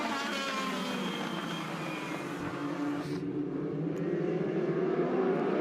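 Race cars roar into the first turns of a short oval track at the Cookout Summer Shootout, a sustained loud engine drone with pitch sweeping as cars pass close by.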